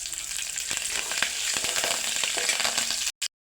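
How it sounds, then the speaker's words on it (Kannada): Cumin, mustard seeds, garlic and curry leaves fry in hot oil with a loud, dense, continuous sizzle and crackle, with light stirring taps underneath. It ends in an abrupt cut to silence. "ಜೀರಿಗೆ, ಸಾಸಿವೆ, ಬೆಳ್ಳುಳ್ಳಿ ಎಲ್ಲನೂ ಚೆನ್ನಾಗಿ ಫ್ರೈ ಆದಮೇಲೆ ಸ್ವಲ್ಪ ಕರಿಬೇವು"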